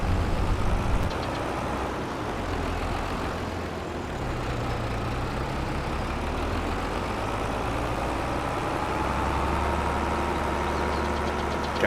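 Volvo BM tractor engine running in Farming Simulator 22, a steady low rumbling idle with a knocking texture, close and continuous throughout, no talk.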